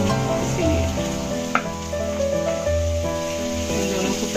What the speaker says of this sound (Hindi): अभी प्याज हम फ्राई करेंगे और साथ में गाजर भी ले लेंगे